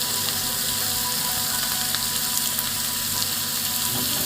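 A spice paste with potato and tomato, seasoned with turmeric and Kashmiri chilli powder, fries in a pan, making a continuous dense sizzle at even loudness, close up, with no voices.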